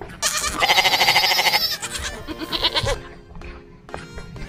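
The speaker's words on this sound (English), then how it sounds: "where you can see small goats." Loud, quavering goat bleats up close, several overlapping calls in quick succession, then fainter bleats trailing off.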